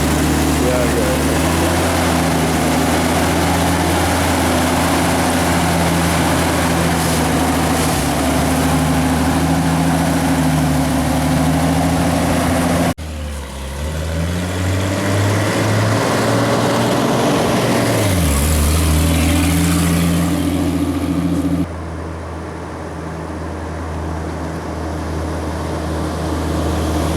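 A Jeep TJ engine runs steadily on its first test drive after rear axle work, a loud low drone that dips partway through and then picks up again as the vehicle moves, with a voice speaking over it.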